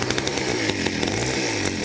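A motorized bicycle kit engine fitted with a CVT clutch runs steadily and loudly up close, giving a buzzy, chainsaw-like drone with a constant pitch and faint rattling, and no speech.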